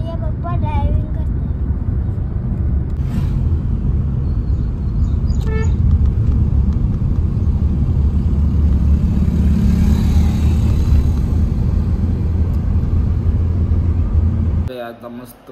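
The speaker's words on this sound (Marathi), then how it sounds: "बघा घरचा रोड. आणि या पप्पा ड्रायव्हिंग करतात." A car driving on a home road, heard from inside the cabin as a steady low engine and road rumble, with a couple of faint horn toots, under occasional talk.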